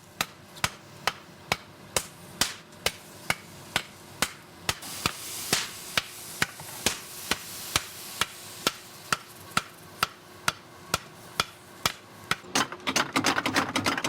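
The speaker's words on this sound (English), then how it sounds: "Mr. Doi removes it from the furnace and hammers it approximately 300 times to remove impurities" Mr. Doi hammers a heated steel knife blade fresh from the furnace at a forge, striking about once every half second in a steady rhythm of sharp metallic blows, closing with a quicker flurry of lighter taps.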